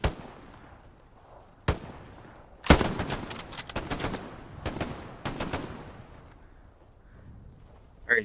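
Gunfire in a World War Two shooter video game: a sharp single shot, then clusters of loud rapid rifle and machine gun fire, with quieter gaps and a distant thump at the end, no talk.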